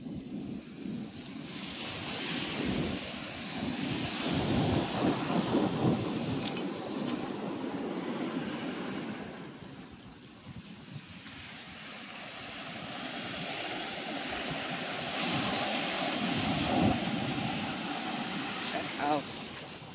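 Surf rolls and breaks on an empty beach, a steady wash of waves with swells building and fading under gusty wind noise across the microphone, with no voices.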